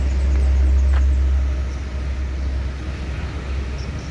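A coach bus of the Sinar Jaya fleet rumbles past on the road at morning, its heavy low engine drone loud and steady, swelling early then easing as it moves along, with no talk.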